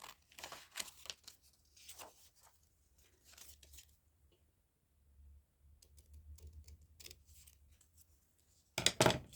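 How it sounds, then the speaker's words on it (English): Scissors snip through paper in short bursts of crisp cuts separated by pauses, close and fairly quiet, ending with a louder final cut. "I don't think I'm cutting that very straight because I'm trying to hurry"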